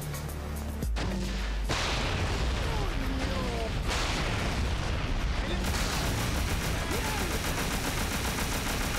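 Golden Desert Eagle pistol fire in Scarface: The World Is Yours, a busy stretch of repeated game gunshots and booms over continuous loud background noise, with some speech mixed in.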